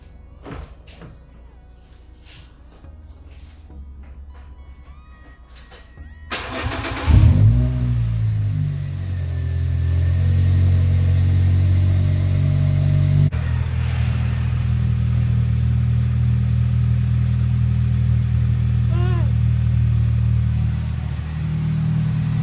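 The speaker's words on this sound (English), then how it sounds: "Just gonna start her up right now and just make sure there's no vacuum leak" A Toyota 2ZZ four-cylinder, as fitted to a Matrix, Corolla or Celica, cranks and catches after a few quiet seconds, then settles into a steady, loud, close idle that drones on without talk.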